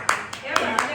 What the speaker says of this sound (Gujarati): પાડો તાળી.